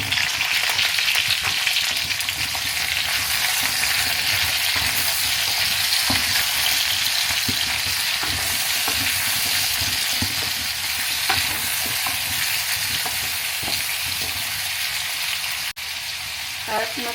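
Squash, or kalabasa, sizzles steadily in a frying pan, a continuous bright hiss with occasional stirring clicks and scrapes throughout.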